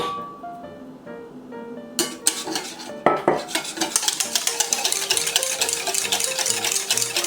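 Whisk or spoon scraping and clinking rhythmically against a bowl while egg yolks are mixed into chocolate Swiss roll batter, preceded by a few light clinks, close and fairly loud, no talking.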